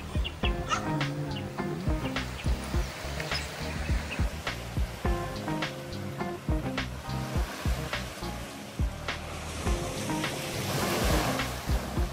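Sea waves wash onto the beach at Dahican in Mati, a steady roaring surf with repeated crashing bursts, mixed with a tonal background that sounds like music throughout.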